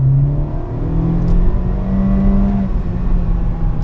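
A Honda Civic RS accelerates in a pull, its engine droning with a rising whir and road roar from inside the cabin, steady and loud throughout.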